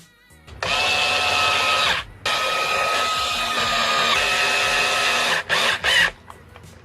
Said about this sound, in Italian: Accostate tutte le viti con l'avvitatore